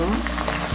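Capsicum, tomato and mushroom fry in groundnut oil for a mushroom omelette, a close steady sizzle with faint stirring, a light knock near the end.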